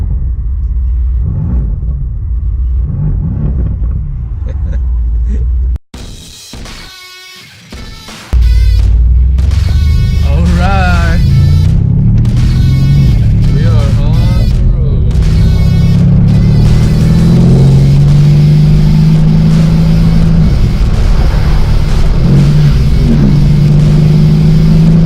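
A 2018 Mercedes-AMG C 63 engine roars loud and close as it accelerates up canyon roads, rising through revs with brief gaps between gear shifts, then holding a deep, sustained growl.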